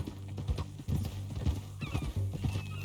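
A horse in Red Dead Redemption 2 clip-clops in a steady hoof rhythm on the ground and gives a brief whinny, close and clear, with little talk.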